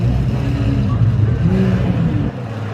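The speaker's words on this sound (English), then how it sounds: "All those supercars are leaving." Several supercars pulling away together, a continuous loud engine roar with revving rises and falls, close by and steady throughout.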